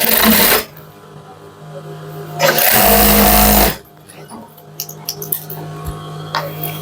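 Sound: sewing machine stitching Punjabi sleeve

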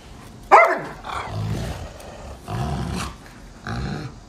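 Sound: angry dog barking and growling

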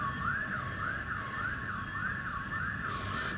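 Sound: facility alarm sounding at decommissioned power plant

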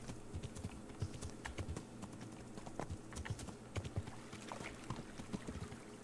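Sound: horse galloping hooves in Kingdom Come Deliverance video game

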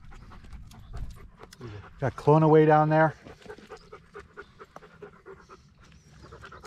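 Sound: dog panting

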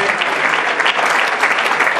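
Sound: audience applause at awards gala

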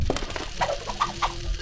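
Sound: birds clucking in a video game (Neighbours from Hell)

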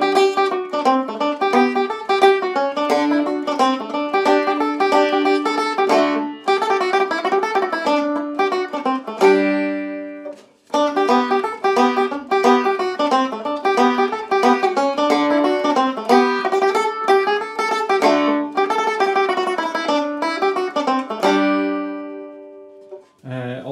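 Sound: Irish tenor banjo playing The Steampacket Reel

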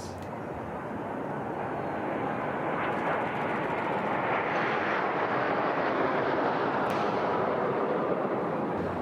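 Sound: fighter jets flying overhead

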